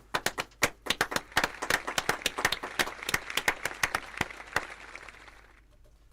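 Applause for a student team at an award announcement: a burst of individual hand claps, fairly close and sharp, that thins out and fades to quiet near the end, with no talking.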